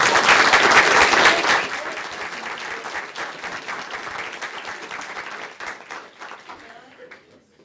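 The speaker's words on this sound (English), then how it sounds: "Let's give them another round of applause." At a county board of education meeting, the audience bursts into loud applause that gradually thins into scattered individual claps and fades out near the end.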